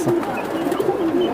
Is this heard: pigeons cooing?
yes